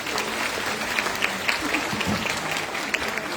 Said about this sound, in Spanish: pido un aplauso para nuestros panelistas